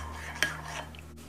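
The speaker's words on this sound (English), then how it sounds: "Give that a stir." A utensil stirs vanilla into milk, giving one short clink against the container and a soft scrape, close and quiet over a low background hum.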